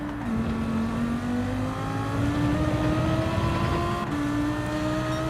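A Ferrari racing in Gran Turismo 7 gives a steady, loud engine drone that climbs smoothly in pitch through the gears, sustained with no break and no voices.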